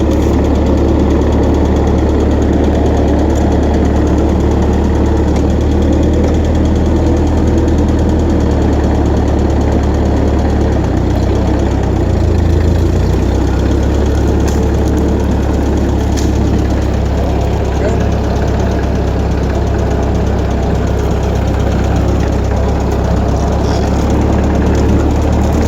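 An old, cheap tractor engine idles steadily while warming up, a continuous loud low rumble with a knocking pulse that holds near and unbroken throughout, with no talking.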